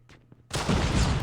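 A sudden loud burst of rapid gunfire erupts midway in a first-person shooter game match, after a brief quiet lead-in with faint clicks.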